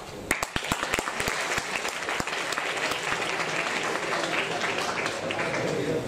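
An audience at an engineering students' gymkhana presentation breaks into applause, with loud distinct claps at first that merge into a steady, dense clapping roar.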